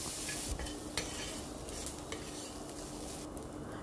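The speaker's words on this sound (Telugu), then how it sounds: "ఇవి కాసేపు ఫ్రై అవ్వనిద్దాం ఆనియన్స్." Sliced onions fry in a pan for a potol aloo gravy curry, a steady soft sizzle broken by a few light clinks of a spoon stirring against the pan.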